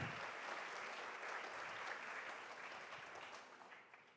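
A conference audience at a superconducting qubits event breaks into soft, even applause, a dense wash of clapping heard from a distance that thins out toward the end.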